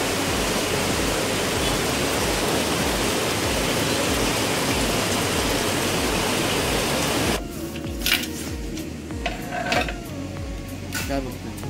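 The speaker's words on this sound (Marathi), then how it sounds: "पाऊस पण भरपूर आहे." Heavy rain pours as a dense, loud hiss for most of the stretch, then cuts to quieter ambience with scattered clatter and movement.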